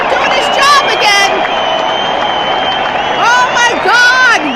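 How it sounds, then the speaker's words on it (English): Applause sound effect played on a radio talk show, a crowd clapping and cheering with whoops, steady and loud throughout, with a voice audible over it. "That should be applause."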